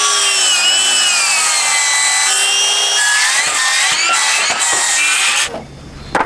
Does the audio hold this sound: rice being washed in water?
no